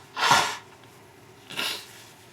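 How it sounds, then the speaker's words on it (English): Two quick sneezes from a person at a craft table, the first a sharp burst and the second softer about a second later, close and alone. "I'm going to sneeze again"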